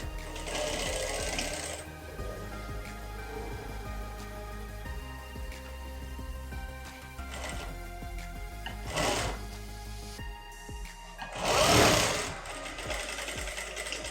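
Sewing machine joining the shoulder seams of a child's shirt, running in several bursts of rapid stitching with pauses between, the loudest run near the end, close by and with no talk.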